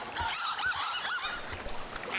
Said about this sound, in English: Oh, yeah, I hear the ducks right there.